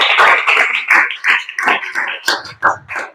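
A classroom of students claps loudly and up close for a classmate's answer, in quick rhythmic bursts of patterned clapping.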